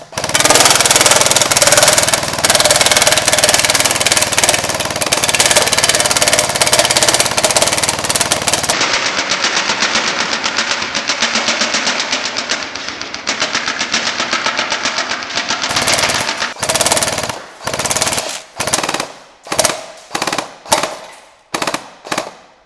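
TM P90 high-cycle airsoft gun blasting full auto at a can, a dense, rapid buzzing stream of shots running loud and continuous, then breaking into a string of short separate bursts near the end.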